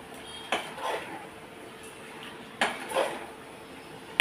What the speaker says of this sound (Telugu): మళ్ళీ ఒకసారి కలుపుతున్నాం.